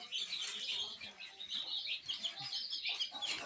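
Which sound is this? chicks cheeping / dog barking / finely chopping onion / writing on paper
chicks cheeping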